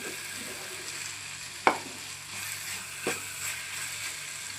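Onions frying in a pan for a Telugu dondakaya ullipaya karam curry, a steady close sizzle broken by two sharp scrapes of a spoon stirring around the pan.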